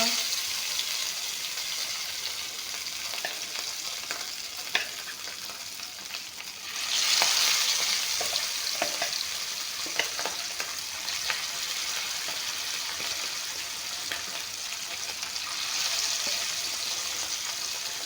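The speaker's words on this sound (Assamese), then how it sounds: "এতিয়া এইখিনিও একেলগে ভাজি ল'ম।" Thin fish pieces fry in refined oil with a continuous bright crackling sizzle. Occasional stirring clatters and a brief surge in the frying can be heard, all close to the listener.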